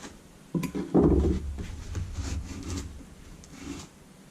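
A rag or brush rubs and scrubs grease off an upper control arm, producing a few close, coarse scraping strokes with a loud burst near the start, then softer rubbing that fades.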